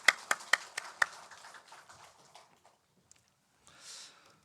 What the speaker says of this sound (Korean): 우리 다시 한번 축복의 박수 할까요?